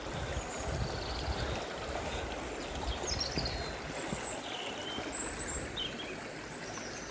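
A small outdoor stream near New Ross runs steadily with a continuous gurgling, rushing flow, heard close, with a few faint bird chirps high above it and no talking.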